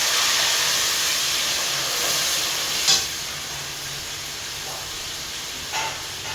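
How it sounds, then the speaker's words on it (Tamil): A steady broadband hiss and low bubbling of water heating in a cooking pot for rava pongal, continuous and fairly loud, with a couple of faint clinks. "நல்லா இந்த தண்ணி வந்து கொதிக்கணும்."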